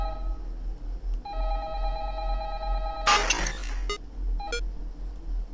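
A phone ringing in the horror game Five Nights at Candy's 2, a steady electronic tone for about two seconds, then a burst of harsher buzzing and a couple of short blips, with a low hum underneath.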